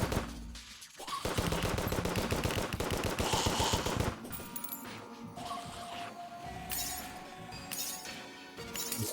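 A skeleton sniper in Terraria firing amid dense, rapid gunfire and crashing impacts, loud and fast at first, then thinner scattered shots and clatter.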